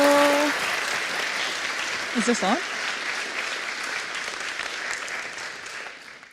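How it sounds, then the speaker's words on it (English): Conference audience applause for a speaker, broad sustained clapping from a large crowd that slowly fades, with a brief spoken question from the stage partway through. "So please give a huge round of applause to Mariko."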